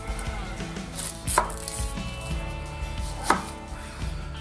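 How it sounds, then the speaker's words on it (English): Onions being sliced with a knife on a board, a run of close, crisp chops with two sharper cuts standing out, no talking. "I'm also going to cut some onions and some shallots."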